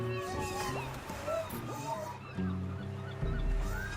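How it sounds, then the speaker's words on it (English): Seagulls call in the adventure video game Broken Age, several short squawking cries over a busy layered game soundscape with low tones. "Real seagulls, not made of yarn."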